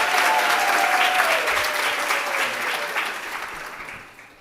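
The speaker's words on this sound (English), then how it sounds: "let's give it up for a round of applause again for our graduates" An audience at a student affairs end-of-year gathering gives graduates a round of applause. The dense, sustained clapping is loud and close at first, then gradually tapers off toward the end.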